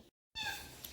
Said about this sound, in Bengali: বিড়াল কান্না করতেছে কেন